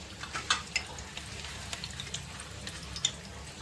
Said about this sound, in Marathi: तर तेल उकळलंय थोडंसं, त्यात कढीपत्त्याची पानं टाकते पहिली.